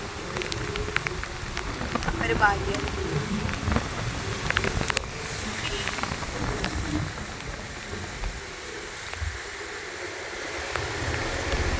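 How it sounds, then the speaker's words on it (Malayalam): Steady, dense heavy rain hiss fills the whole stretch during a stop on a motorcycle ride, with a person talking over it at times. "നല്ല മഴ പെയ്തു"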